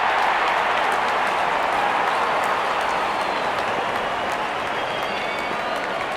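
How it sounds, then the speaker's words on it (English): A cricket crowd roars steadily as the opening batsmen walk out, a broad wash of cheering and clapping holding constant and loud for several seconds. "Openers walking in and the crowd cheering in anticipation."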